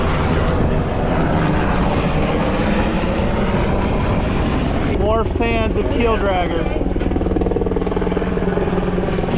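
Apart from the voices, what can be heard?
helicopter flying overhead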